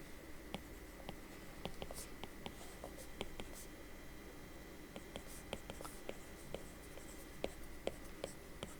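Handwriting during a Python class lecture on perceptrons and logistic regression: a pen scratches and taps quickly and steadily across a surface, faint and close, with soft background noise and no clear speech.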